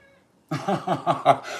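A cat perched on a table lets out a short run of rhythmic, close meow-like cries after a brief quiet start.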